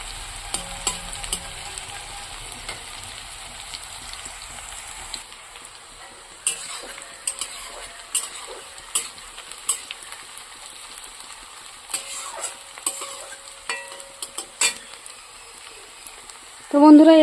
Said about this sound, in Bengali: পেঁয়াজ মোটামুটি দেখতেই পাচ্ছেন যে ভাজা ভাজা হয়ে এসছে